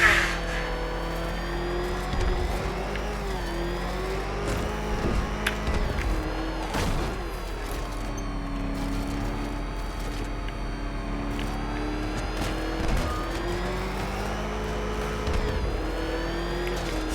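A car driven in Batman: Arkham Knight, its engine revving and shifting through rising and falling pitches with tyre noise and occasional sharp impacts, loud and continuous over a game soundtrack.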